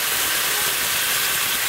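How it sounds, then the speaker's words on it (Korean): Bamboo shoots and lotus root stir-fry in hot oil in a wok, giving a loud, dense, continuous sizzling hiss up close with no break. "식용유를 약간 넣어준 다음에 이게 죽순하고 연콘을 먼저 볶아줄 거예요"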